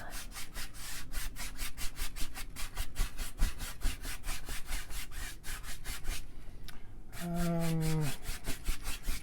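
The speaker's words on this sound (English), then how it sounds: "I got a big 2-inch brush right here I'm using. Let's just throw some phthalo blue up in here." Big 2-inch brush working phthalo blue oil paint across a canvas sky in steady, rapid back-and-forth scrubbing strokes, close and continuous, with a brief voice near the end.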